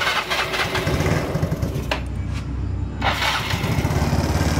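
A Yamaha Mio Sporty scooter engine runs steadily right after a timing chain replacement, a continuous close mid-pitched motor hum with a brief dip in the middle, no talking.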